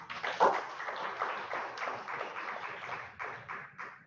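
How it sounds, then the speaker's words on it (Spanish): An audience breaks into applause to welcome a speaker at an education conference, a steady wash of clapping that fills the whole moment at moderate volume, with no speech over it. "un fuerte aplauso para Héctor León"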